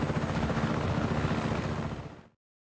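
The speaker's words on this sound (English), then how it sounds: "You can take this chopper!" Helicopter in Just Cause 3 video game, a loud steady rotor thrum and engine roar up close, alone, cutting off abruptly.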